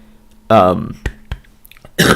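A short throaty cough or throat clearing up close, followed by a couple of soft knocks and another brief rough burst, amid light talking.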